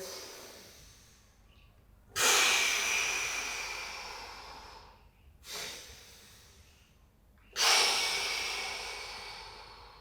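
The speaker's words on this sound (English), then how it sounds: "you want to be taking in some big, deep breaths when you're doing these exercises" Deep breaths drawn and released during a core exercise on a small ball, three loud close exhales or inhales with quieter breathing between, no speech.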